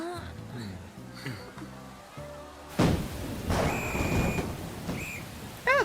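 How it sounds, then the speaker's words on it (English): Rain and rumbling thunder in the Persona 5 Royal video game, a steady patter with a sharp thunder crack partway through, heard under game music and a person talking. "And it's raining."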